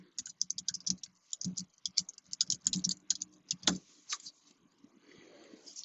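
Someone types text into a Google Doc on a computer keyboard, producing quick, uneven clusters of close keystrokes. The keys go still near the end.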